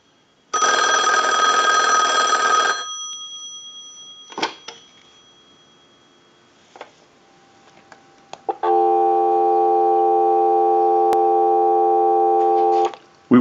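On a Western Electric 2500 desk telephone being repaired, a last loud bell ring ends, a few clicks and handling knocks follow, then a steady continuous dial tone hums for several seconds before cutting off.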